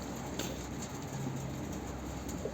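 Domestic pigeons cooing softly amid steady background noise, a few faint low coos and rustles over a continuous hiss, no clear wingbeats standing out.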